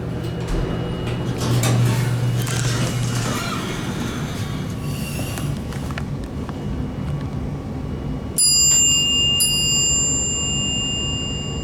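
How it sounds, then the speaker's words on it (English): A Dover traction elevator at Philip Hoffman Hall, University of Houston, rumbles and hums inside the cab, then sounds two bright, ringing chime tones close by near the end. "I love that chime."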